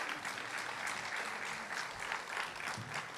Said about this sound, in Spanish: Un aplauso para estos actores maravillosos.